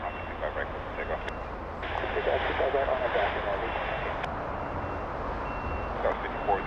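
An airliner takes off from a runway at LAX, its engine roar swelling steadily from a distance while an air traffic control radio voice talks over it.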